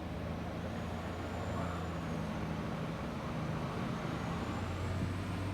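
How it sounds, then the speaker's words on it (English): A logging truck travels a road in British Columbia, heard as a steady, fairly faint broadband road roar with low engine rumble that holds evenly throughout. "Now that is a logging truck."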